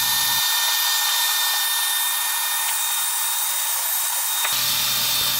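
A power drill whines steadily and loudly for several seconds, close up, with brief pauses at the start and end as it bores shelf pin holes into wood using a shelf pin jig.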